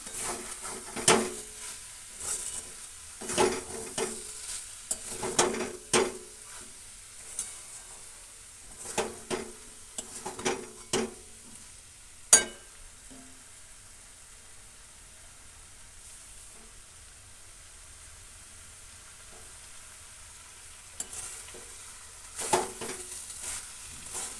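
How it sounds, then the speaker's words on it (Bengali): Prawn, potato and ridge gourd curry being stirred and fried in a pan, intermittent scraping strokes over a low sizzle, busy at first, then quieter, resuming near the end. "এবার একটুক্ষণ নেড়ে নেব ভালো করে কষাতে হবে"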